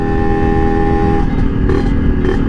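Serpico motorcycle with a freshly rebuilt engine pulling hard in fifth gear, a loud, steady close-up engine drone with a sustained tonal whine and rough low-end texture throughout.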